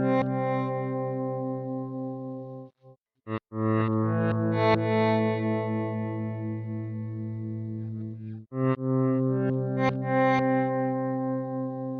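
Chopper preset of the DelayJaVu delay effect by Rob Jackson on iOS/Mac, turning a sustained harmonic tone into a gated, chopped texture with brief dropouts and a steady, distorted shimmer, with no talking.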